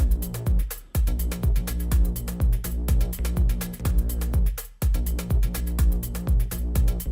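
Synth bass in Ableton held on one note without an arpeggiator, played under a steady pumping dance beat with evenly spaced kick and hi-hat hits, loud and continuous.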